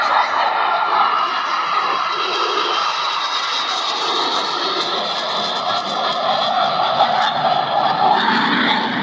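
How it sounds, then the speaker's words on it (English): Four aircraft roll together in formation at the Terre Haute air show, their engines a loud, sustained roar that swells and fades slightly as they pass, heard from the crowd with no talk. "All 4 pilots will simultaneously roll their aircraft 360 degrees."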